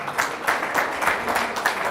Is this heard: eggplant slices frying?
no